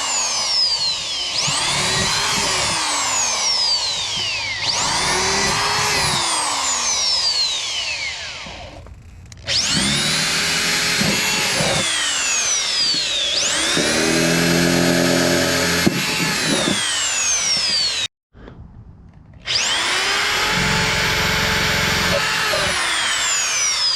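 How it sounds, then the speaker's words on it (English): A power drill boring holes in the bottom of a plastic cat litter bucket, with several long whining bursts that rise and fall as the motor speeds and slows, and short pauses between them. "I drill the holes in the bottom like so."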